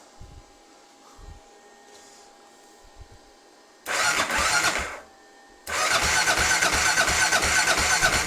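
An engine is cranked to prime it and push oil through. A short burst of loud, close cranking is followed by a pause and then a longer, steady run of churning cranking.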